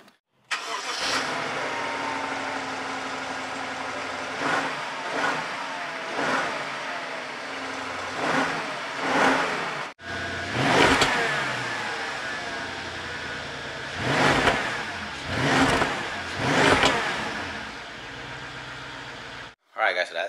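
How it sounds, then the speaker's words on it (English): BMW engine with its exhaust muffler valves bypassed starts and runs, a close, throaty idle broken by several revving surges that rise and fall. "All we do is now is start the car and let's hear"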